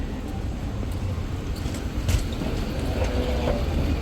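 Trains pulling into a station, a steady low rumble of rolling rail cars with faint clattering, heard from a moderate distance amid constant background noise.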